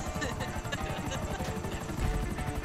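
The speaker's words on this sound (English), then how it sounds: "I got two choppers on me" Helicopter rotors chase the player in the GTA V video game, a steady rhythmic thumping close by, with people talking over it.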